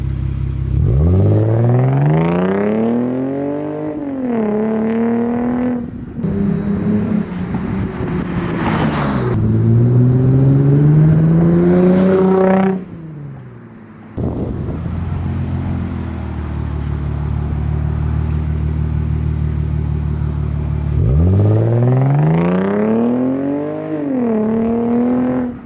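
A Lexus IS350 with an aftermarket exhaust makes loud, close drive-bys, its engine revving hard through rising gear pulls with a deep rumble and rasp, easing between passes and building again near the end.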